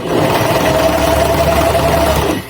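A sewing machine stitches a stretchy lettuce hem on a tube top, running as one steady close whir for about two seconds before stopping, with no talk.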